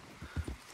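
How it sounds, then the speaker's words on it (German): Horse hooves in Red Dead Redemption 2, a short run of three or four heavy, close thuds in a loose galloping rhythm over a soft background hush. "Was ist mit dem Gaul?"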